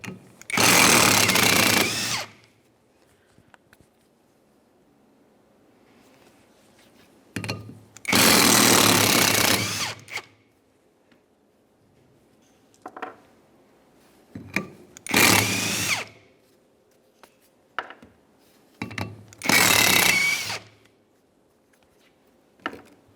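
Four bursts from an impact-style power tool spinning out 14mm bolts that hold a wheel bearing hub to the brake rotor on a 1994-1997 Honda Accord, each loud rattling run about two seconds long, with short clanks and taps between them.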